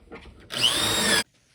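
A power drill bores a hole in a cabinet board held in corner clamps, a single close, loud whining burst lasting under a second before stopping abruptly.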